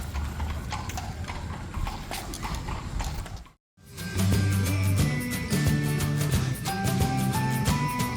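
Horse hooves clip-clop steadily on a street in historic Williamsburg, close and distinct, with a brief silent gap midway before the rhythmic hoofbeats resume alongside wheel and harness rattles.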